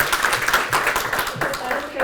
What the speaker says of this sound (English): let's just do a round of applause